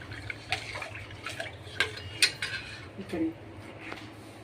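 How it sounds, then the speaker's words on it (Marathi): Jaggery stirred into colostrum milk in a metal pot gives scattered clinks and scrapes of a utensil against the vessel, with light liquid sloshing, close and moderately loud. "आपण यांना चांगलं ढवळून घेऊया गूळ चांगला मिक्स होईपर्यंत"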